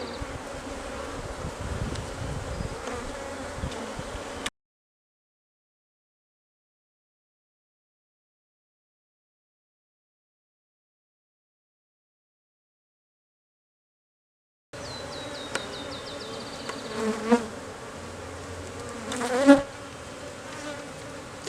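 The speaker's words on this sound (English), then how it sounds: "These bees are not really happy with me" Honeybees buzz around beehive frames bearing queen cups, a dense agitated drone close by with a long silent gap midway and brief louder passes near the end.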